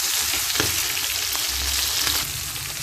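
Poli fish fry in hot oil with a loud, continuous hiss and crackle, joined by a few brief low bumps as pieces shift in the pan.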